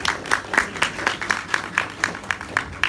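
Seminar audience gives the speakers a round of applause: loud, rhythmic clapping in a brisk even beat, many hands landing together over a wash of scattered claps from the crowd.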